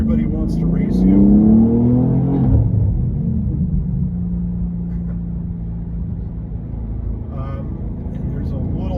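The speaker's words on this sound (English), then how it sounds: "there's a little bit of that wastegate sound as the turbos dump their boost at higher RPMs when you let off the throttle" A 2024 BMW M2 with a manual gearbox and turbocharged engine revs loudly, then the throttle lifts with a brief turbo wastegate whoosh as the rumble settles, with a voice talking over it.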